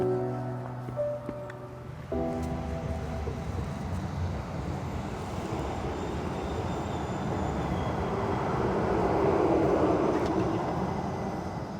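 A new passenger train travelling through rural China toward Nanning gives a continuous low rumble of wheels and carriage that swells louder toward the end, heard from inside with no talk.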